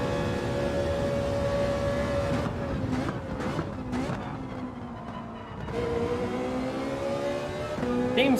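McLaren race car engine in the Gran Turismo 7 racing game, a sustained high-pitched whine that holds steady, dips as the car brakes and backs off, then climbs again with steady loud revving.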